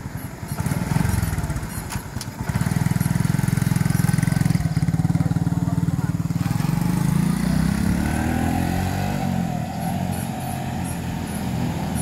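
A Honda XRM 125 motorcycle, stored for years, runs on a test drive, its engine a loud steady drone that rises slightly in pitch as it moves along, close and continuous throughout with no talk.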